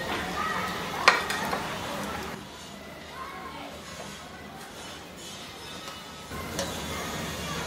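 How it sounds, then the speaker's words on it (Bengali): Semolina chicken donuts fry in hot oil with a steady low sizzle, joined by a sharp utensil clink and scraping as pieces are turned. A voice speaks faintly at times. "ঠিক একভাবে বাকি সবগুলোকে ভেজে নিব আমি"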